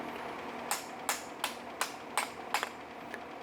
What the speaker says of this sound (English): So I'm gonna hit it with a hammer outside here